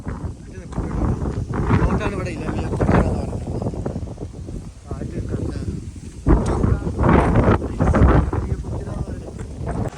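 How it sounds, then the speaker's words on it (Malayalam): Strong gusty wind buffets the microphone at Ilaveezhapoonjira hilltop in Kottayam, a loud, steady roar with surging gusts throughout, while voices talk over it. "എന്താ കാറ്റ് കാറ്റ്"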